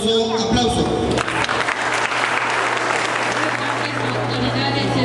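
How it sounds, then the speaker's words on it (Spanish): An audience at a school farewell ceremony applauds in steady, loud, dense clapping that carries through the whole clip with crowd murmur beneath. "Recibámoslo con un caluroso aplauso."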